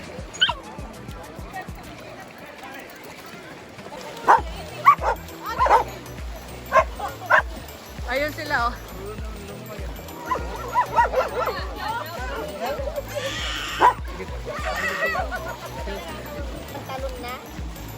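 Two pet dogs, Kayla and Leia, bark and yip repeatedly at a summer beach in Ontario, loud and close, with some whimpering between bursts while people chat and crowd murmur fills the background.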